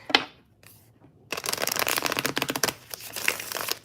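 Tarot cards from a Ma'at Featherheart deck shuffled on a table, a quick riffle up front, then a steady dense run of papery card slaps and flutters, close and fairly loud, with no talking.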